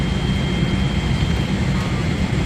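A steady, loud broadband roar of an airplane's engines fills the cabin just before takeoff, constant and unbroken, with a faint high whine above the low rumble.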